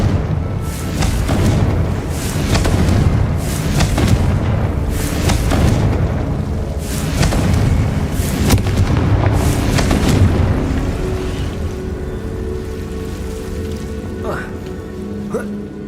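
Repeated booming fire-spell explosions cast in Hogwarts Legacy gameplay, loud bursts recurring every second or two amid crackling debris, with a voice talking over the blasts.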